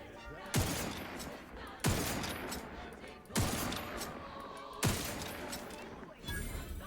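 Gunfire in The Outer Worlds 2 comes as four heavy bursts spaced about a second and a half apart, each a sharp crack that decays into a rumbling tail.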